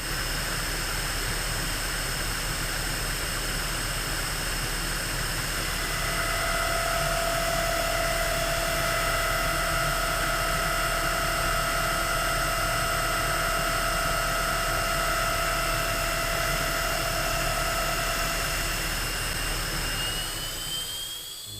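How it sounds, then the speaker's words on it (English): A gear hobbing machine cuts gear teeth with a spiral hob, a steady, loud mechanical drone with sustained whining tones that runs unbroken for about twenty seconds and rises in pitch near the end, with no talk. "Gear teeth are gradually produced during gear hobbing machining using a sequence of cuts made with a spiral cutting tool."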